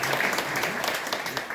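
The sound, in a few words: church congregation applauding in welcome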